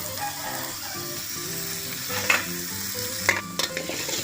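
Shallots and garlic fry in a pan with a continuous sizzle, broken by a few sharp scrapes and clicks of stirring. Quiet background music runs underneath.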